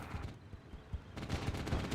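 Rapid gunfire and 20mm cannon fire in the World War II tactics game Theatre of War 2 at the Battle of Cheux, a dense burst of repeated shots, a brief lull, then heavier sustained firing close by.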